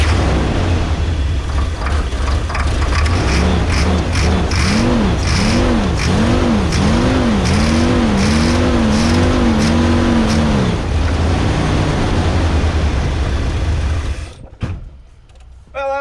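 Plow truck engine, just started on ether starting fluid, running loud and close, revved repeatedly in rising and falling surges before settling, then suddenly dropping away near the end.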